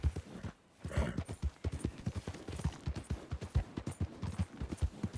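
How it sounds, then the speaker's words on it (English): Horse hooves clip-clopping at a steady trotting rhythm in the video game Red Dead Redemption 2, a run of distinct close thuds with a brief pause near the start, fairly quiet with no talking. "I'm fine with this horse right now"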